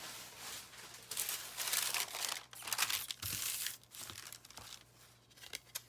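Parchment paper is handled and crinkled for embossing, giving close, irregular bursts of crisp rustling and crackling with short pauses between them and no talk.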